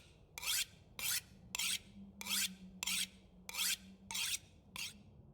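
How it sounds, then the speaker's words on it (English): A hatchet is sharpened with a whetstone in The Long Dark game, eight rhythmic rasping strokes about a half second apart, each a bright gritty scrape, over a low steady hum. "We're just going at it with the whetstone"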